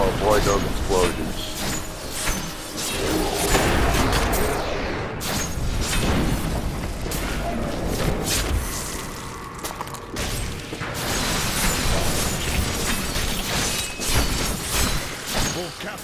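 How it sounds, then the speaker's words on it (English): Explosions and mechanical crashes from Diablo III: Reaper of Souls combat roll through a busy mix of booms and shattering bursts, with someone narrating over the game sounds. "Definitely want to avoid those explosions."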